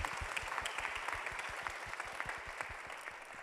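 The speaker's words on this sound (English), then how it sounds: "can I get a clap for him right now?" An audience at an awards panel claps for a mentor, a fairly brief burst of many hands that starts strong and gradually thins out.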